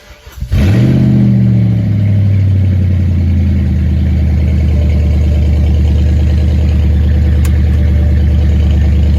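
A BMW M3 with a 4.8 liter N62 V8 and no exhaust cranks briefly, then fires up with a loud rising flare and settles into a steady, deep, raw idle that carries on close and alone.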